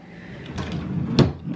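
A dresser drawer with gold knobs slides open in a nursery, a soft rolling rumble ending in a sharp wooden knock, close and moderately loud.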